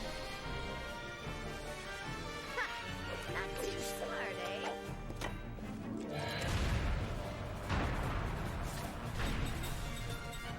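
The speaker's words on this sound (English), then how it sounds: "we're gonna throw flare bombs and also cast Flare" Flare bomb blasts and a Flare fire spell in the role-playing game Lost Odyssey: crashing explosive booms and a roaring burst land over steady game music, with a person talking throughout.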